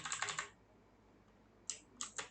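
Quiet computer keyboard typing in two short bursts of light, quick key clicks separated by a second of near silence.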